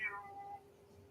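A single short meow from a needy cat, close and fairly quiet, fading into low room hiss.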